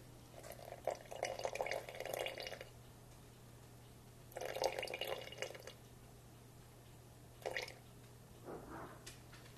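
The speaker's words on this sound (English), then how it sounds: "We'll add 25 grams of water." Water for a sourdough starter trickles and drips into a container on a kitchen scale in three short bursts, close and moderately quiet, over a steady low electrical hum.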